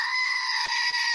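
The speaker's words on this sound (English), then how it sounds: "A screaming goat?" A screaming goat sound effect: one loud, sustained, harsh scream with two brief breaks near the end, heard alone with no talk.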